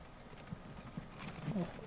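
Faint, steady clip-clop of horse wagon hooves in the video game Train Fever, with a brief whinny near the end, set against a low background hum.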